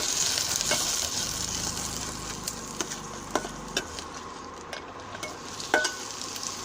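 Tomatoes sauté in a pan for garlic dosa, a soft continuous sizzle broken by occasional sharp clicks and scrapes of a spoon stirring against the pan.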